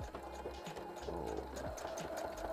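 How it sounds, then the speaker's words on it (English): A home sewing machine runs steadily at close range, its needle hammering in a fast even rattle over a low motor hum, with no talk. "And when the tension isn't perfect in a sewing machine, it just starts tying knots"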